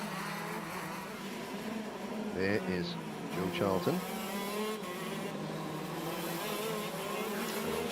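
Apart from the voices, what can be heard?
KZ2 racing kart engines on rolling laps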